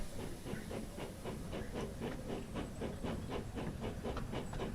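A steam locomotive in the train game Wonders of Sodor chuffs steadily in a quick, regular rhythm, each exhaust beat hissing over a low rumble at moderate loudness, with no talk.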